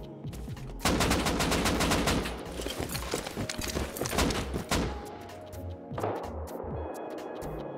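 AK rifle gunfire in the survival game Rust: loud, rapid automatic bursts crackle close by for several seconds, trail off, then resume with a shorter burst.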